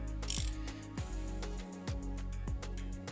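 A ratchet tightens the belt tensioner bolt on a Mitsubishi GTO engine, giving close, quiet clicking strokes in three or four short bursts with brief pauses between them.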